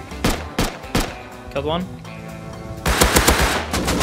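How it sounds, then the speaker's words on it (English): Gunfire in the survival game Rust: sharp close shots and rapid bursts, ending in a dense volley, with a voice speaking briefly mid-clip. "He's getting shot at."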